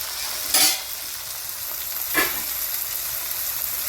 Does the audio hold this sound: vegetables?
yes